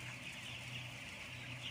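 Thirteen-day-old broiler chickens fill a closed poultry house with a dense, steady murmur of chirping and peeping from the whole flock, even in loudness and with no voices.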